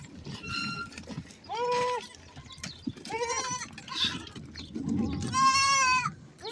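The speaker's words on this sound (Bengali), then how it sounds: "প্রচুর ছাগল" A crowd of goats packed together in a farm pen bleats repeatedly, several loud, wavering cries overlapping at close range over a low murmur of shuffling and background noise.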